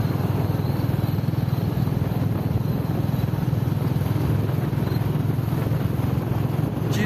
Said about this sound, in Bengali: জিজু চালাচ্ছে বাইক আর আমি বসে আছি পেছনে।